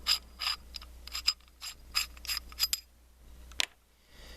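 Metal pommel of a Graflex lightsaber kit being unthreaded by hand, a series of close, dry ratcheting scrapes and clicks in irregular bursts, ending with one sharp metallic click.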